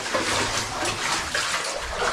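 Water splashing and sloshing continuously as someone wades through flooded passages in an old copper mine, close and fairly loud, with no talking.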